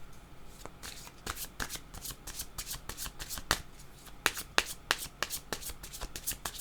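Tarot cards are shuffled by hand, giving close, crisp riffling bursts and sharp slaps in an irregular rhythm, with no voices.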